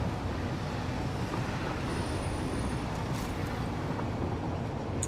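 A train runs along its track in the factory-building video game Satisfactory, giving a steady, moderately quiet rolling rumble and hum with a faint high whine near the middle, continuous and without talking.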